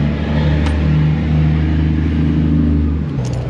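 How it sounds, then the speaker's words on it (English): A truck with a loud exhaust idles or rumbles nearby, a deep steady low drone holding evenly before dropping off near the end, heard alone without talk. "I don't remember trucks having such a loud exhaust"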